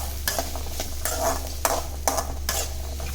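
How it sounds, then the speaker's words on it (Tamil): Big onions sautéing in a pan for garlic tamarind kuzhambu, with a soft sizzle under repeated rhythmic stirring scrapes, about five strokes in quick succession, over a low steady hum. "பெரிய வெங்காயம் போட்டுட்டு நல்லா வதக்கி விட்டுக்கோங்க"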